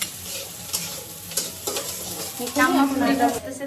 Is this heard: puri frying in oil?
yes